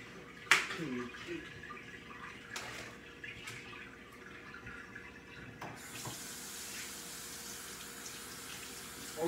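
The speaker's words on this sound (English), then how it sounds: "I'm using cold water to clean my chicken off." Cold water runs steadily from a kitchen tap while raw chicken is rinsed under it, a close continuous splashing stream with a brief clatter near the start and the flow intensifying partway through.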